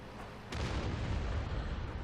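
Artillery shell striking in World of Tanks on the Westfield map, a sudden muffled boom that swells into a sustained low rumble, heard at moderate distance.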